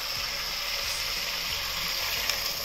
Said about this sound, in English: now we add in our water